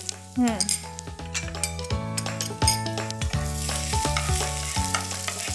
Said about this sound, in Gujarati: આની કાચી સુગંધ ઉડી જાય ત્યાં સુધીને થોડું સોતે કરો